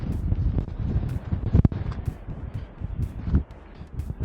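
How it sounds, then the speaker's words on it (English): Cold, strong wind buffets the microphone at a mountain summit, producing rumbling, uneven gusts with brief louder thumps and no clear speech. "It is cold, it is windy"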